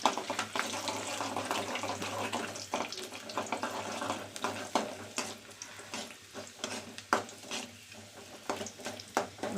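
Garlic cloves frying in hot oil with popped mustard seeds for a South Indian okra kara kuzhambu, a steady close sizzle broken by stirring scrapes and clatter, no talking.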